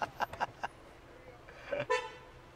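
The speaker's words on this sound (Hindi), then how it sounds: "फिर दोबारा हॉर्न, भाई यहाँ हॉर्न बहुत ज्यादा पड़ रहे हैं" Car horns honk in city traffic during a road trip, several short toots near the start and then a longer, louder blast, while people talk faintly under the road noise.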